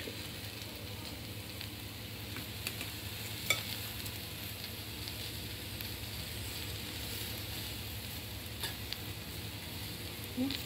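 Okra and crushed peanut powder are stirred in a frying pan, a steady low sizzle running under soft scraping and occasional light clicks of the spoon, close and unhurried, with no talking.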